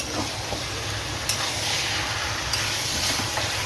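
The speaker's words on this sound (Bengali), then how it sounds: "মাংস কষে নেব" Meat sautéing in a pan gives off a steady, even sizzle and hiss, with a few light clicks of a utensil over it.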